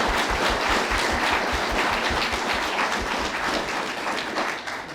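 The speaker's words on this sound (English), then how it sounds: "A warm round of applause for all of our contributors." Audience applause for contributors at the close of a botanic gardens panel day, brisk rhythmic clapping from many people, fairly loud and tapering slightly at the end.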